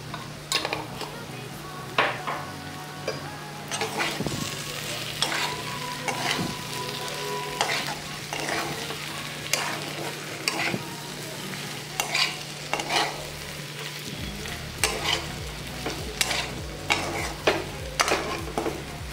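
Potato and pointed gourd fry with chili powder and turmeric sizzling in a pan, with repeated clinks and scrapes of a spoon stirring against the metal in a steady, close rhythm throughout.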